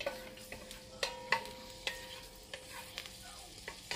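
A garlic clove cooks gently in butter in a pot for a fish and shrimp soup, a faint low sizzle dotted with light clicks and taps from stirring, quiet and near, without talk.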